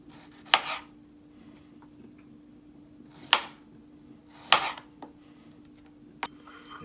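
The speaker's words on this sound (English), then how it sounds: "cut off and discard the ends of the radishes, thinly slice into rounds" A knife cuts the ends off radishes on a cutting board. Four sharp, separate chops land several seconds apart, close and fairly loud, and quiet hangs between them.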